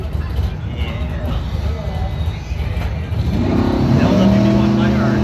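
Pro Trophy drag race cars at a Bowtie event roar on the launch, a loud sustained engine blast that builds and rises in pitch toward the end, with an announcer's voice faintly under the noise.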